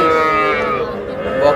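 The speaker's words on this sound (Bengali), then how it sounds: "বকনা বাচ্চা" A heifer calf at a cattle market moos in one drawn-out, close call that wavers and fades slightly, then lifts again at the end, with faint market noise beneath.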